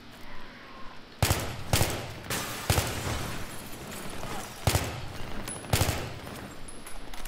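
Gunfire in the Battlefield 3 video game: several sharp, loud shot bursts crack out in quick groups over a steady background of game ambience, close and dominant throughout.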